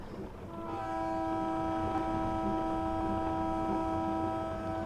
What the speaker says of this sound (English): There's the horn. Horn's alright.